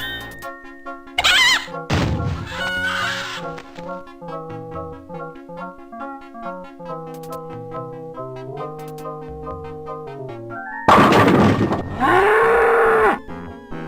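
A cartoonish cow moos in the adventure game Day of the Tentacle, with two loud bursts over a plinking melodic game soundtrack.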